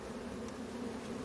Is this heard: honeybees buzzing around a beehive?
yes